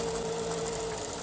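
A sewing machine stitching thin lycra fabric backed with masking tape, a close, steady mechanical whir with a constant motor hum and fast, even stitching, heard alone without talk.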